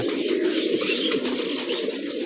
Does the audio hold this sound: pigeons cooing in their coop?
yes